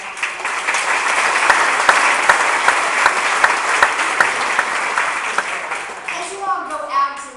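An audience claps steadily for Bill Howe at a local community gathering, a dense, loud round of applause that holds for several seconds before tapering off as a few voices start up at the end.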